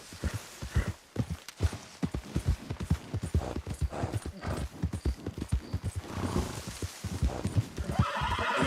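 A horse in the video game Red Dead Redemption 2 whinnies loudly and repeatedly while its hooves clip-clop in a quick, steady rhythm close by, with a rider's brief spoken words.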